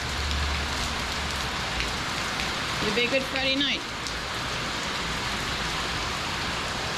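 Heavy rain pours steadily on an outdoor surface on a rainy day in the Orlando, Florida area, a dense continuous hiss throughout, with a voice speaking briefly midway over it.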